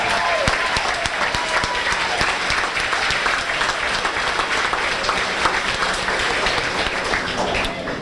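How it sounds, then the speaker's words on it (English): An audience at a high school spring sports banquet applauds, a thick wash of many hands clapping at once, steady and sustained throughout with crisp individual claps standing out. "How about a nice round of applause for that"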